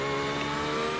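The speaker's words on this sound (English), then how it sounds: "Oh, it's GT3. I don't like that sound." Brief, steady whine of a GT3 race car engine held at high revs in a racing game, tonal and sustained for about a second, with no talking.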